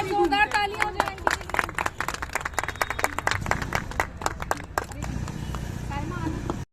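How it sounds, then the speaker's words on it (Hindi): Audience applause at an International Women's Day NGO event, a dense burst of clapping running throughout with voices mixed in, fairly loud and close. "एक बार जोरदार तालियां हो जाए आंटी"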